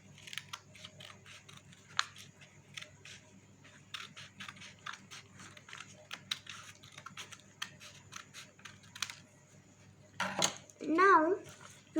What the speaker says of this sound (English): Now we are going to cut that triangle.